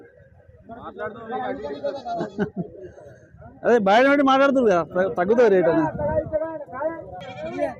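Native goats bleat repeatedly close by at a weekly livestock market in Husnabad, wavering cries overlapping with people talking throughout, busy and loud.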